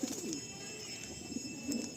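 A pair of Fulsira pigeons coo softly and close by, with a couple of low rolling coos at the start and end of a quiet moment.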